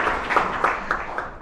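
An audience claps together at a Fuckup Nights Singapore talk event. The steady, diffuse applause runs the whole moment, with a few sharper individual claps standing out.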